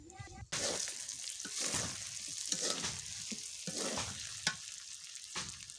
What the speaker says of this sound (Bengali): এখন সেটা কষাই নেব আগেই পানি দেবো না